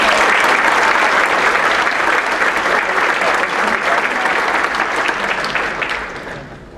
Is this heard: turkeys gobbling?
no